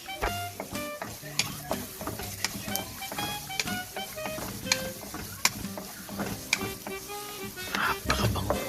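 Onion and garlic sautéing in a pan for pork giniling, with a soft steady sizzle broken by frequent clinks and scrapes of a spatula stirring against the pan, close but fairly quiet.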